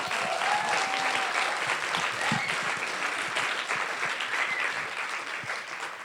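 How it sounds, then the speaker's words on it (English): Audience applause for an artist just after a performance of The Dybbuk, a dense steady wash of clapping sustained for about six seconds at moderate level, with a faint whistle or cheer briefly rising above it. "Please join me in applauding our amazing artist one more time."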